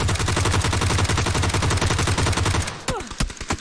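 Rapid automatic gunfire rattles in the PUBG battle royale game as a loud continuous burst. It cuts off and is followed by a few scattered single shots, with no talking.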